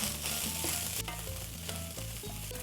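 Ground beef for gorditas frying and browning in a pan gives a loud, continuous sizzle, close up, with scraping stirs throughout and music playing underneath.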